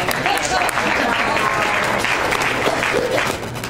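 An audience at an awards ceremony claps steadily, a dense, even patter of many hands lasting a few seconds, with some voices mixed in.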